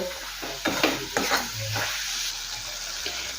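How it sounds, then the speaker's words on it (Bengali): A spoon stirs a khoya kheer milk filling in a pan for dudh puli pitha, with soft scraping strokes and faint sizzling close by, quiet and without voices. "আবারও কিছুক্ষণ সময় নিয়ে নাড়াচাড়া করে পুরটা তৈরি করে নেব।"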